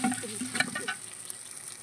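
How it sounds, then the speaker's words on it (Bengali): Mung dal sizzles as it is stirred and fried over tempering spices in a pan, a steady close hiss with soft scraping strokes early on, no voices. "মুগ ডালটা আমি সুন্দর করে একটু নেড়ে চেড়ে ভেজে নেব।"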